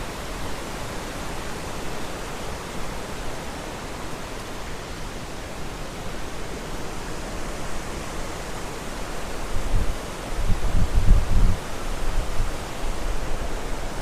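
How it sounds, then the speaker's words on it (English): Wind rushing through trees in a coastal setting, a constant broad hiss that swells into a stronger gust near the end, steady and enveloping with no voices. "A lot of noise through the wind in the trees"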